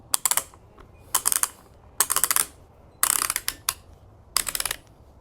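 Ratchet on a Wugeku electric chainsaw being cranked to tighten the chain tension, five close, loud bursts of rapid clicking separated by short pauses, with no talking.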